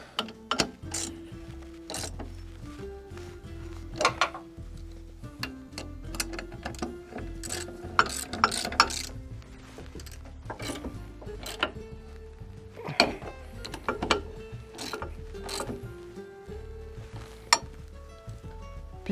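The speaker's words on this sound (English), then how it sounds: "then you take a 14 millimeter and you tighten those up." A ratchet clicks in quick, repeated bursts tightening 14 mm bolts on a Jeep heavy-duty tire carrier, with metallic clanks and pauses between runs, close and fairly quiet.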